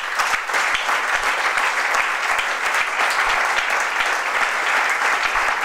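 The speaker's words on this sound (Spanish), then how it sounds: "Os pedí ese aplauso que os habéis adelantado" A congress hall audience at a socialist youth congress breaks into sustained, dense applause, loud and even throughout with no voices on top.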